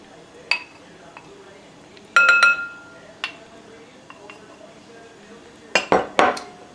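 Sauce, mustard, brown sugar and onion being combined in a bowl: sparse clinks and taps of a utensil against the dish, with a cluster of sharp clatters near the end, close and otherwise quiet.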